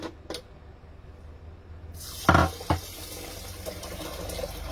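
Water runs from a kitchen tap into a pot, starting about halfway through as a steady broadband rush with a couple of clunks from the pot and lid, close and fairly loud.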